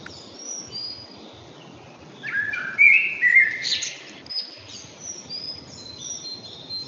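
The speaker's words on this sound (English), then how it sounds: "Birds are simple, I guess." Small birds chirp and tweet in quick high calls over a steady insect-like outdoor hiss, mostly faint and distant, with one louder burst of song in the middle and no talking.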